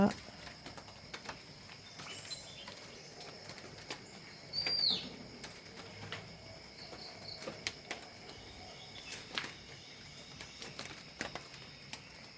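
Birds and crows call and flutter among the trees after rain, their calls faint and scattered over a steady insect hum, with occasional wingbeats and one brief, clearer chirp.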